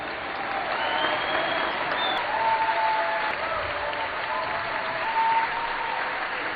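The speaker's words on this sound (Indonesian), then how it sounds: "Begitu meriahnya tepuk tangan penonton" Audience applause after a concert ends, a continuous, fairly loud burst of clapping from a crowd with faint cheers and whistles rising over it.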